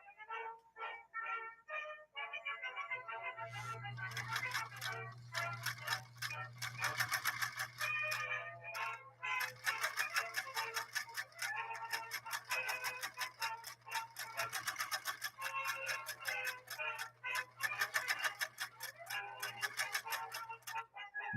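A 1954 Canadian sewing machine stitches after a brief pause, its needle running in a fast, even, close chatter with a low steady motor hum underneath, carrying on for a long unbroken stretch.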